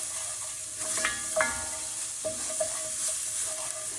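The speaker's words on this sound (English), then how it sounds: "we're just going to saute that until you can smell the aroma" Ginger and garlic sauté in a pan, a soft steady sizzle punctuated by several sharper scraping stirs and small pops, close and fairly quiet, with no talking.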